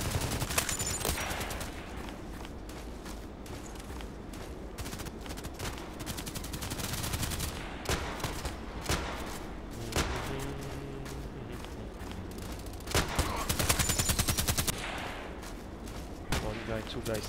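Sniper rifle gunfire in a video game, heard as several sharp shots spread across the clip, with a clustered burst near the end over a constant busy game soundscape.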